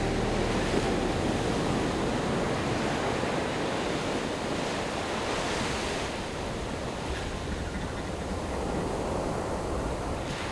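Pacific Ocean waves breaking on the Kamchatka shore, a broad continuous roar of surf with slow swells in intensity, loud and close, with some wind buffeting the microphone and no speech.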